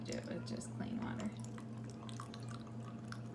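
Clean water runs from a tap into a Baby Alive doll's cup, a steady trickle with scattered drips, while a person talks over it.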